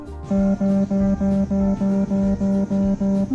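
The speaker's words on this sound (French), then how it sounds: "c'est une vibration et un son qui a pour objectif d'évacuer l'eau qui se trouve dans le micro et le haut-parleur" A smartwatch runs its water-ejection routine after swimming, a loud steady buzzing tone pulsing in regular bursts, about ten evenly spaced pulses, to push water out of its microphone and speaker.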